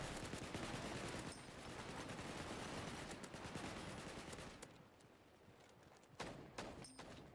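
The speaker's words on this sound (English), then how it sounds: "Whatever that is, it's a quick firing weapon." Rapid automatic fire from a quick-firing weapon in the sci-fi shooter game Wormhole Wars, dense bursts of shots crackling at moderate distance, easing off midway before a few sharp close shots return near the end.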